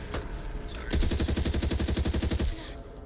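Rapid automatic gunfire from the video game Back 4 Blood rattles off in a fast, even burst of about a second and a half, loud and close, with a few scattered shots before it.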